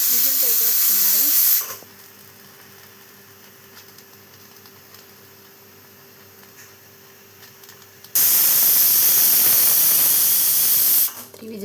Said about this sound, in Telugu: విజిల్స్ అయితే వస్తున్నాయి.